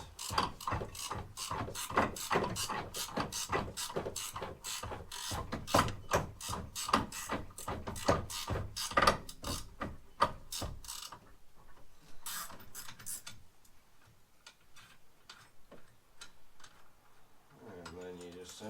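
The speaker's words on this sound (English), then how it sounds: "As I'm backing this bolt out, I just keep backspinning my belt." A ratchet drives a bolt out on a 2010 Arctic Cat Crossfire 800HO snowmobile while the drive belt is spun backward, giving a long run of rapid, close metallic clicks that stop partway, followed by quieter handling noises.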